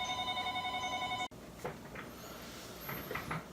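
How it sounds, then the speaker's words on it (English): A telephone rings with an incoming call, a steady repeating electronic bell for over a second, loud and close, then cuts off abruptly, followed by faint scattered handling and room noises. "we have a phone call coming in"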